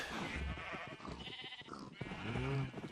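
Minecraft sheep bleat in a few quiet, wavering calls amid soft game ambience, with a faint voice nearby.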